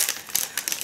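A plastic packet from Velikolovsky meat plant that once held boiled sausage crinkles in bursts close by, with brittle rustling and a few sharper crackles, without any talking.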